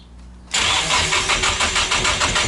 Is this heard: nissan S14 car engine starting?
yes